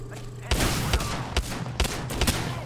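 Rapid gunfire in the Apex Legends battle royale shooter, a run of sharp, loud shots in uneven bursts with some game ambience, during a solo arena ranked match.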